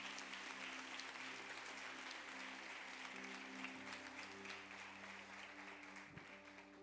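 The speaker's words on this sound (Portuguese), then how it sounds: "Você pode aplaudir a Jesus por isso?" A church congregation applauds in a steady wash of clapping under a sustained low musical drone, fairly faint and distant, tapering slightly toward the end.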